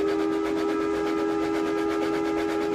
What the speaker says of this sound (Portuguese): E o apito de um terceiro trem iluminado soou.